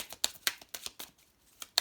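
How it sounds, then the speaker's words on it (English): Romance Angels oracle cards being shuffled, quick soft riffling bursts and light card slaps coming in uneven clusters, close and quiet with no talking. "So I'm going to shuffle the Romance Angels."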